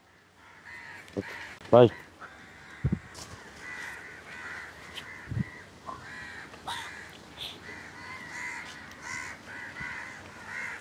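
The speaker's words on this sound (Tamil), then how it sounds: "எவ்வளவு காக்கா வந்தீங்க" Several crows caw repeatedly outdoors, some calls close and sharp and others farther off, with people talking on and off throughout.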